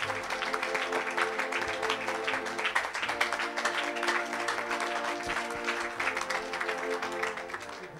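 A church congregation claps and applauds during a lively service, a dense, steady wash of hands filling the space for several seconds, with faint voices mixed in beneath.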